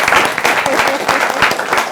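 A studio audience claps loudly for the host of a weekend talk show, a dense burst of hand claps lasting a couple of seconds.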